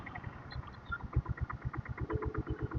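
Diesel Royal Enfield Bullet motorcycle thumping along on a cold night ride, a steady, fast train of low engine pulses heard from the saddle, fairly quiet, with faint wind noise and no speech.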